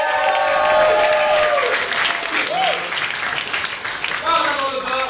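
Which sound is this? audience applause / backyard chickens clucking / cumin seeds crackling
audience applause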